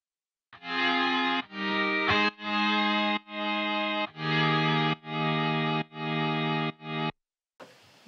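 Omnisphere synth patch imitating a PRS electric guitar, playing a run of sustained, distorted chords with a chorus sheen, each held about a second, then a short pause, within a production for a song.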